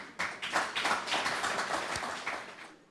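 An audience applauds an executive director at an evening civic discussion, with steady, close, moderately loud clapping from a modest crowd that fades slightly toward the end.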